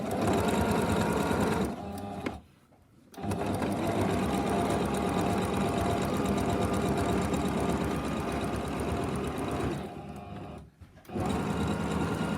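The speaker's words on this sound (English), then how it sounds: "we're going to pop that back in your machine, and you're going to sew right from the edge" Sewing machine stitching binding along the edge of a quilt, a loud steady rapid mechanical whir running close up, stopping briefly twice before resuming.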